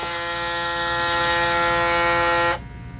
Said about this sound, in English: It's going to clean that shaver head with that solution.